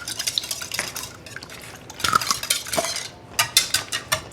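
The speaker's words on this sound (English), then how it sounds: "break up those yolks" Utensil stirring and breaking up egg yolks in a bowl, close, rapid clinking and tapping against the bowl in quick irregular bursts.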